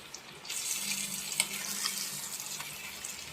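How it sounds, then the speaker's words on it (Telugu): Sea bass curry fries in oil in a pan, a soft, close sizzle with light crackles and a few stirring scrapes, fairly quiet and continuous. "నీళ్లు పోయకండి కాసేపు ఇందులోనే వేగని వేగనిద్దాం"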